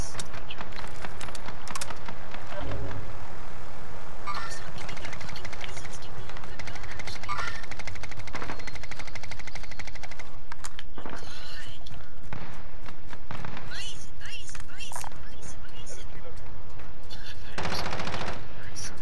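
A Bruin machine gun fires in Call of Duty Modern Warfare, rattling out repeated rapid bursts mixed with other gunfire while players talk over the action.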